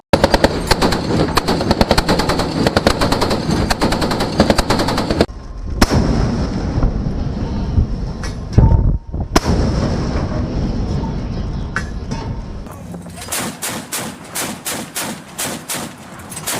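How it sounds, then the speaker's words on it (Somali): Several rifles fire in rapid, sustained bursts, loud and dense, with brief pauses, then a stretch of separate, evenly spaced shots near the end. "hada dhowr qori baa lidii ridaya mid walba ark inta lacag u baxda"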